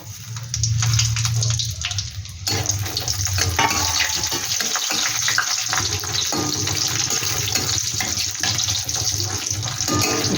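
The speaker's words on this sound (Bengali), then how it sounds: "এবার আমি একটু বড়ি ভেজে নিই।" Bori lentil dumplings fry in hot oil in a kadai, a dense, continuous crackling sizzle that stays loud and close for about ten seconds, with no voices.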